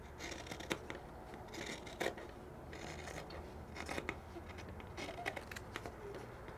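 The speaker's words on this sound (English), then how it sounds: "So I'm going to trim it a quarter of an inch all the way around" Scissors snip repeatedly while fabric corners are trimmed for an in-the-hoop sensory marble maze, giving soft, close, irregular clicks and crisp cuts over faint rustling of the material.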